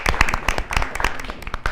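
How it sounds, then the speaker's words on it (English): A high school audience claps for the winning group at an awards moment, a short burst of close, loud applause with scattered voices mixed in. "Everyone give them a round of applause"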